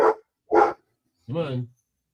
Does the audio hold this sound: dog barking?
yes